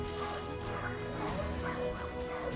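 A dog barks and yips repeatedly over steady background noise, medium distance, at what appears to be a dog competition event, with an excited voice calling to it nearby.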